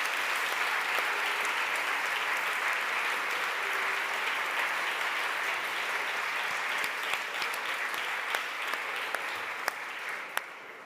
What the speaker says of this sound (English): That's why all the finalists, I think, deserve a big applause.